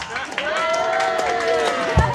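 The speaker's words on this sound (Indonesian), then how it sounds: "tepuk tangan untuk dia" An audience at a first-Mass celebration in Mosun village, Maybrat, claps for the deputy chairman of the regional council, a brief steady patter beneath a speaker's voice.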